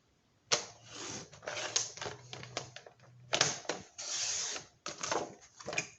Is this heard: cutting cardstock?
yes